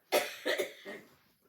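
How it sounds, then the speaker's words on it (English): A person coughs three times in quick succession, close and fairly soft, the last cough fading into a throaty rasp. "I was coughing through that song."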